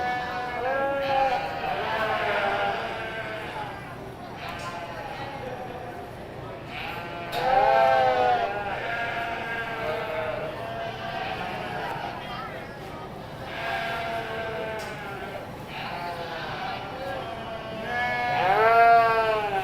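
Sheep at a county fair livestock show bleating several times in scattered, fairly close calls over a murmuring crowd and occasional talk.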